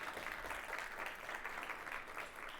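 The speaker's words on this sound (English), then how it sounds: "So give them a round of applause." An audience at a university speaker series applauds, dense even clapping from many hands continuing steadily at moderate loudness.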